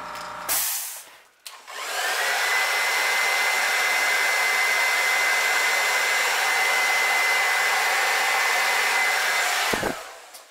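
A hair dryer heat-sets fresh paint on a crankbait lure, switching on with a click into a loud, steady blowing whir that runs for about eight seconds before shutting off.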